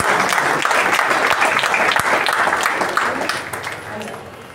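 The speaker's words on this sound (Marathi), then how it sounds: "जोरात टाळ्या काकांसाठी." Loud, dense applause from an audience at a music festival in Solapur, sustained for several seconds before tapering off slightly at the end.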